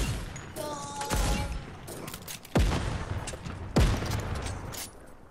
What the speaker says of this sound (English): What kind of gun is that where you shot bombs? It's the boom sniper.